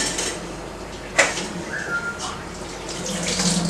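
Cold water runs from a kitchen tap over boiled pasta being rinsed, a steady hiss of flowing water with a sharp clink near the middle and faint background noise, no talking over it.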